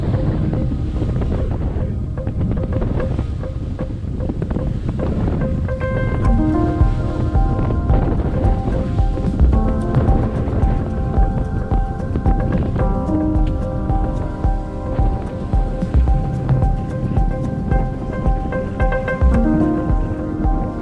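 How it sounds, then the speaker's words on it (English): Loud, constant wind buffets the microphone while ocean swell rolls and water rushes past a sailboat beating upwind in rough afternoon conditions in Barkley Sound. "we found some pretty rowdy upwind sailing conditions"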